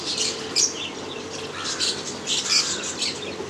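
Pigeons call in a busy cluster, with bright squawks and chirps repeating over about four seconds and a soft low hum underneath.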